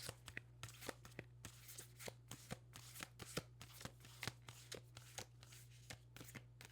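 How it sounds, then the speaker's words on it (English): Large tarot cards are shuffled repeatedly by hand, close up and quiet, with a rhythmic stream of crisp papery snaps over a faint steady hum. "I don't know how people just shuffle so easily."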